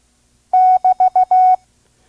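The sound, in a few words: Morse code double dash procedural signal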